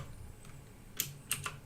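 Computer keyboard keys tapped while typing R code, a few scattered clicks with a quiet pause between them, near and light with no talking.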